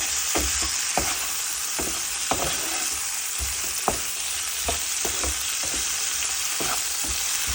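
Potatoes fry in a pan in a home kitchen, a continuous close sizzle with scraping stirs and clinks of the spatula every second or so, no talking.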